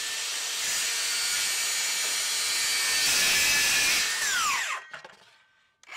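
A DeWalt FlexVolt 60V Max 7-1/4-inch circular saw (DCS578X1) cuts through MDF with a loud, high whine, then the blade spins down in a falling pitch and the sound ends near the close.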